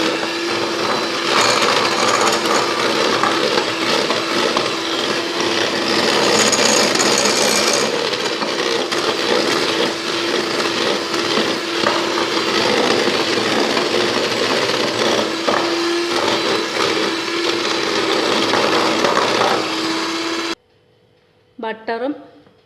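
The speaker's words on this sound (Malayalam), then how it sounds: "ഇനി ഇത് രണ്ടും കൂടെ ഒന്ന് ബീറ്റ് ചെയ്ത് കൊടുക്കാം." Electric hand mixer whipping butter and powdered sugar for a vanilla cake batter, a steady loud whirring drone running nearly unbroken for about twenty seconds before cutting off abruptly into brief quiet and a few light clinks.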